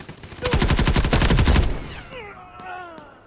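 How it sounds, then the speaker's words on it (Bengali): Rapid automatic gunfire in a shooter video game, a dense burst of about a dozen loud shots coming from behind the player, cutting off after about a second, followed by quieter game sounds. "পিছন থেকে ফায়ার চালাচ্ছে"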